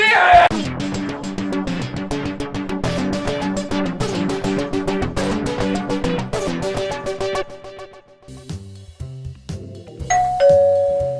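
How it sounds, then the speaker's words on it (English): A doorbell chimes with a long, repeating melodic ring, loud and close, then fades into quieter tones before a final ding. "Oh, it's the doorbell."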